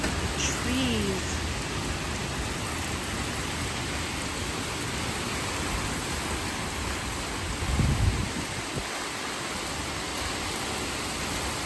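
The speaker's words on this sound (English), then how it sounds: "But that's a lot of rain." Heavy summer thunderstorm rain pours in a dense, steady hiss close by, with a brief louder swell midway and no speech heard.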